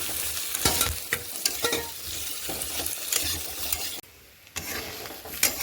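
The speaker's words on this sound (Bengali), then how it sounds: "আলুটা আস্তে আস্তে করে একটু হালকা ভাজা করে নিয়েছি" Potato pieces fry in a spiced masala and are stirred in a pan: a loud, continuous sizzle broken by repeated spoon scrapes and knocks, with a short lull near the end and no speech.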